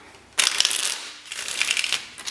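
Tarot cards being shuffled by hand, two crisp riffling bursts of rustling and flicking paper close up, with a brief pause between them.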